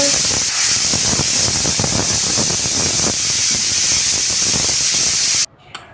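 A pressure cooker whistle releases a loud, continuous rush of hissing steam for several seconds, then cuts off abruptly into near silence.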